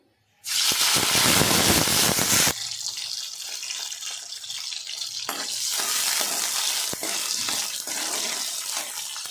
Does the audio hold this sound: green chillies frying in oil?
yes